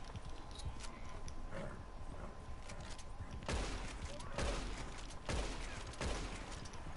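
Gunfire in a PS4 video game: several loud shots spaced roughly a second apart, each with a short rumbling tail, over quiet game ambience and faint talk.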